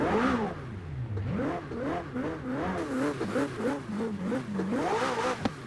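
A McLaren Senna supercar engine in Forza Horizon 4 revs repeatedly, its pitch swooping up and down in quick surges, loud and close, with a brief sharp click near the end.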